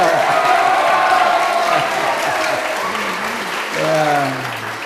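Audience applause for Bapak Kamilos Jendel at a school character-education event, a dense steady wash of clapping from a large crowd that continues throughout, with a voice rising over it near the end.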